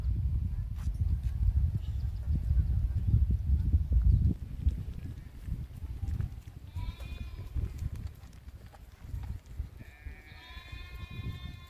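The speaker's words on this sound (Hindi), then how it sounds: "तो सुना, यह भेड़ जी है ना" Sheep and goats kept by Bakarwal herders bleat outdoors, a few wavering calls at middle distance over a steady low rumble.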